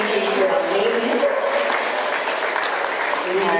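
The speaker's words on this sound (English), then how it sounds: "a round of applause for the dogs leaving us" Audience applause at the EKKA show as puppy class entries leave the dog show ring: steady, dense clapping from a crowd, sustained throughout at fairly loud level.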